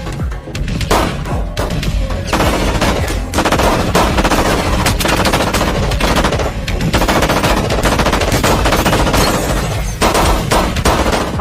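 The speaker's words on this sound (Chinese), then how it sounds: "拿起车里的机枪就向汉克发起了攻击" Machine gun fire in a shootout from the series Breaking Bad: loud, sustained rapid bursts with crashing and shattering impacts, filling the whole stretch with almost no pause.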